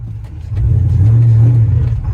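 A muscle car pulls away from a stop while towing, its engine note rising into a loud, sustained low rumble as it accelerates for about two seconds with no talking.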